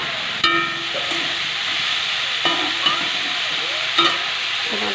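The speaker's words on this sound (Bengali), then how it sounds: "বাঁধাকপিটা ভেজে নিই।" Shredded cabbage frying in a hot pan, a loud continuous sizzle and hiss close by, broken by several sharp scrapes and knocks as a spatula stirs it.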